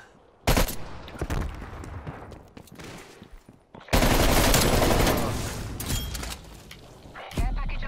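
A sentry turret fires in Call of Duty: Black Ops Cold War, sharp bursts of rapid automatic gunfire in several loud, close volleys separated by short pauses, with a longer sustained burst midway.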